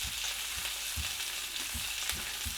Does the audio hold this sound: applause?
no